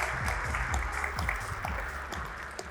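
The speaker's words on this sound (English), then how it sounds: "Quick round of applause." Applause from a conference audience in a main theatre hall, a steady wash of many hands clapping at moderate level, broken by a few low thumps and shuffles, with no talk over it.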